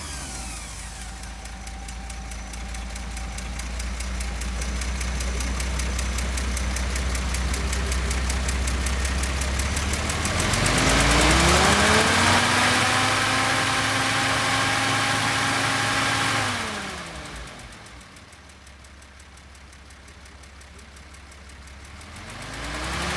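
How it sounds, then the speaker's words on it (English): The engine of a 1945 Lohner Dodge settles into a steady, rumbling idle nearby, swells briefly as it revs up, then drops back to a lower, even idle, with no voices. "just going to start the motor to show you how that runs"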